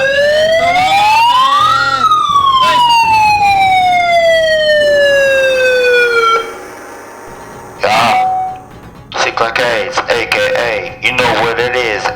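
A loud siren wails up and down for several seconds in the Mortal Kombat fighting game, then cuts off before sharp effects and a bright whine close out the sequence.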